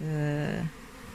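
Honeybees buzz around an open hive with a close, loud droning hum that holds steadily and then drops away to a softer background buzz.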